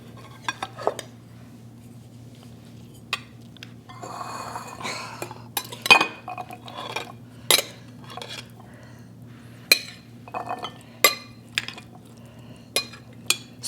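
Crunchy avocado salad is served into two bowls, with a spoon scraping and clinking against the dishes in scattered sharp knocks and rustles over a steady low hum, close and without speech.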